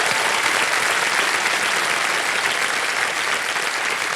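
A studio audience on a TV quiz show claps steadily and densely, a loud, even wash of applause that continues without a break throughout.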